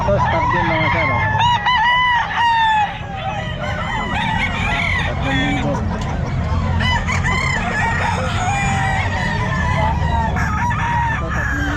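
Stag roosters at a crowded pet market crow and cluck repeatedly, loud and overlapping, over a constant din of chatter and market noise.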